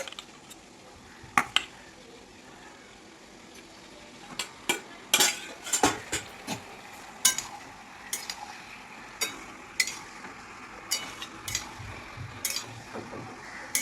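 Marinated chicken for chilli chicken is sautéed in a pan: repeated clinks and scrapes of a spoon against the metal over a low sizzle, getting busier as the stirring goes on.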